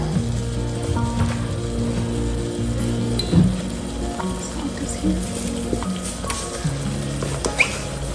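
Soft tomatoes going into a hot frying pan, a steady close sizzle and patter like rain on a surface, with a few light clinks through the clip.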